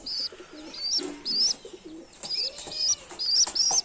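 Lotan pigeon chicks coo in soft repeated bursts, close and fairly clear, interleaved with higher chirping calls and faint rustling, with no talking.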